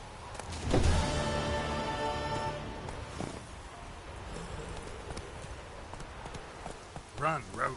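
Hooves of Roach, a horse in the video game The Witcher III, clip-clop rhythmically under game ambience and a voice speaking, loudest early on and continuing more faintly afterward.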